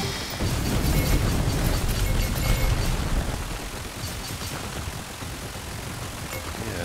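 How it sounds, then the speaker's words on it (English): A loud, rumbling explosion blast in the video game Bore Blasters, a dense low boom that holds for a few seconds before easing into steady game noise. "Oh, the explosion kills the baddies as well."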